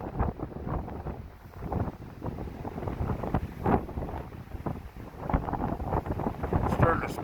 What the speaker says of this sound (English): it's freaking windy out here.